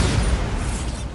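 Bombarda explosion spell in the Hogwarts Legacy video game, a loud, heavy boom with a low rumbling burst that fills the whole moment and decays slowly.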